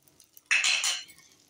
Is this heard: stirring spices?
yes